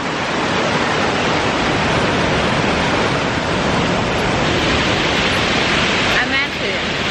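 Steady broadband rush of flowing water fills the scene continuously at close range, loud and even throughout, with a brief voice near the end.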